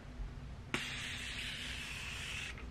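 Makeup setting spray let out in one sustained misting hiss of about two seconds, close and steady, starting with a sharp click and ending abruptly, with no talking.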